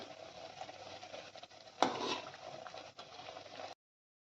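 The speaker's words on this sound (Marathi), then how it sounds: "आता दुसऱ्या बाजूने मी तळून घेते बघा छान फुगायला लागली आपली पुरी" A puri for a fasting meal fries in hot oil, turned to its second side as it puffs up, giving a faint steady sizzle with one brief louder splash partway through before it cuts off.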